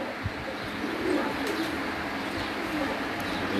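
Pigeons of the Malange line coo on a rooftop loft, a soft, low, repeated cooing set against steady outdoor background noise.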